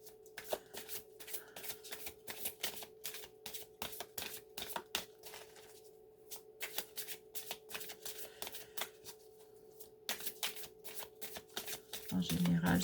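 Close, steady riffling of a deck of cards being shuffled, with many rapid flicks in repeated runs over a low background hum and a short pause midway.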